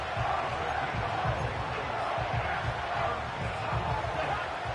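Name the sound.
stadium crowd noise in the video game Madden 25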